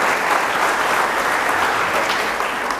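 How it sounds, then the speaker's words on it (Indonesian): A church congregation claps for God, a dense and sustained burst of applause from a sizeable crowd that fills the whole moment and sounds close. "Tepuk tangan dulu untuk Tuhan."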